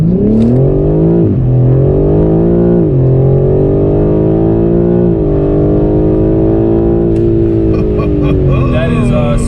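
A BMW M4 Competition engine accelerates hard and loud throughout, its pitch climbing, dipping at gear changes, then climbing again as it pulls up to high speed, all in one continuous run.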